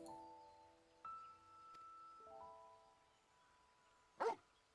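Torgal, the wolf-like dog companion from the Final Fantasy XVI collaboration in Final Fantasy XIV, gives one short, loud bark near the end, heard alone over soft sustained game music tones.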